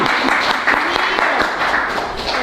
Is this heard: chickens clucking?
no